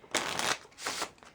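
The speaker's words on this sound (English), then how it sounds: "let me shuffle the deck so I can" A deck of playing cards being shuffled by hand: two quick riffling bursts close by, the first longer, the second shorter, with no talking.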